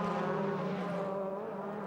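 Onboard a 2001 DTM Opel touring race car at the Norisring, the engine drones steadily and loudly at high revs down the long straightaway, a constant harmonic roar with no talk.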